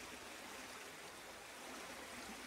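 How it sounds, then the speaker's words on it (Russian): A mountain river rushes steadily, a dense, unbroken hiss of flowing water heard from nearby with no pauses or voices, filling the whole stretch evenly. "Очень меня манит звук горной реки."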